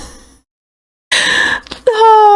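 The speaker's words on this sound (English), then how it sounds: "that's the sound of someone's guts hitting the floor" A wet, noisy squash splat bursts out after a brief pause, followed by a rising, voice-like cry in Sonic Adventure.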